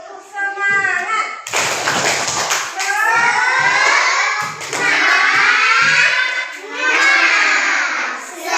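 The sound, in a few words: class clapping the 'tepuk semangat' rhythmic clap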